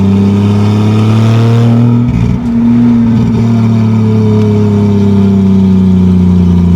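A 1987 Toyota Supra's naturally aspirated 2JZ-GE engine, turbocharged, drones loud and steady at mid revs, its pitch easing up and down through a brief throttle dip before settling into a sustained hum.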